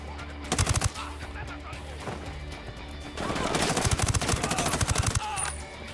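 Rapid automatic gunfire in a PC multiplayer shooter game, one short burst near the start and a longer sustained burst of close, loud shots later, with faint background noise between.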